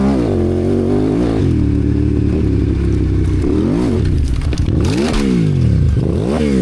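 A dirt bike engine revs and bogs with wavering pitch, loud and close, then a burst of clattering and scraping as the rider crashes into a barbed wire fence, the motor still running roughly afterward.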